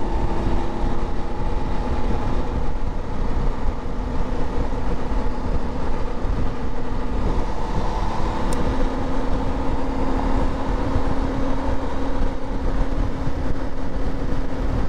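A 2022 BMW F850GS Adventure motorcycle rides along with a steady engine drone and heavy wind rush, a faint brief shift change in the middle, continuous and loud throughout.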